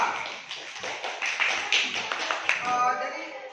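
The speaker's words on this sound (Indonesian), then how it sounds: "Dan tepuk tangan untuk kelompok A." A classroom of students claps for a group, a brisk scattered patter of hands that rises and falls in waves, with voices mixed in.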